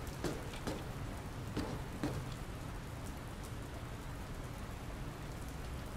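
Steady rain pouring down in the video game Dr. Langeskov, a dense, even hiss holding at one level throughout with a few brief brighter drop streaks near the start.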